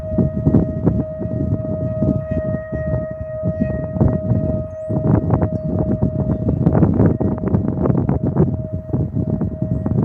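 A singing bowl rings with a sustained, steady tone and faint overtones, heard through dense rustling and rubbing noise that continues throughout, with no speech.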